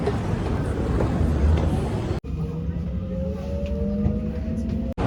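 A Munich metro train on the move gives a loud rumble that cuts to quieter running with a rising electric motor whine, while faint voices murmur in the background.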